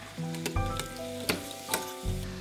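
Hot oil sizzles steadily as date sweets fry close by, with occasional sharp crackles and pops.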